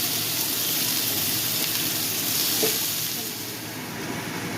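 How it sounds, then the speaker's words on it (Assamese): A steady, loud sizzle of bottle gourd peel, onion and chillies frying in hot oil in a wok, continuous hissing without any talking. "এতিয়া মই কেৰাহীত তেল দি লৈছোঁ আৰু ইয়াতে মই এতিয়া ভাজিখিনি দি দিম"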